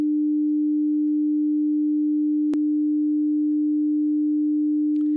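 A steady pure sine tone hums at a constant low-mid pitch, interrupted once by a sharp click partway through, with no voices.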